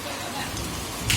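Heavy rain pours in a steady, dense roar close by at a market area in Junagadh, loud and continuous, with a brief surge of splashing near the end.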